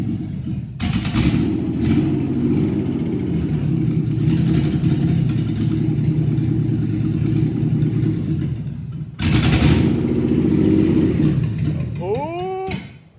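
A Nissan D21 pickup engine roars loudly and steadily at high revs, running continuously with a brief dip near the middle before surging again, then winding down at the end.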